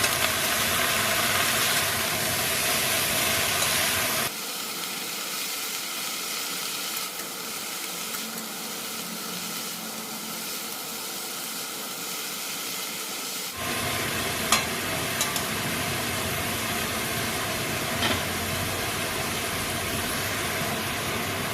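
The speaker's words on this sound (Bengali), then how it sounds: "এখন এটাকে ভালো করে ভেজে দিতে হবে।" Cabbage fries in a pan for a vegetarian dish, giving a dense, loud sizzle and hiss that drops briefly in the middle, with occasional scraping clinks of stirring.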